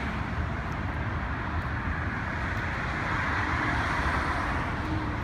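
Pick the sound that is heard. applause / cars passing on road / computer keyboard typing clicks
cars passing on road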